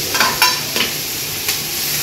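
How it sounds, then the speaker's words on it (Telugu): Kasuri methi tossed into a pan of frying mushroom pulao and stirred, giving soft scraping stir strokes over a steady close sizzle, with no talking. "ఈ మెంతి పొడి ఇది కదా కస్తూరి మెంతి అది వేద్దాం"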